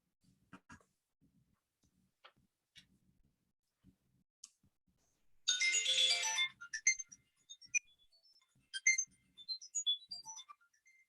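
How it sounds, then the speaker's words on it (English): A timer alarm rings in a quiet lecture room: a burst of bright electronic ringing followed by a string of chirpy rising and falling beeps, with scattered small clicks before it. "that was the timer for the setup of the notes"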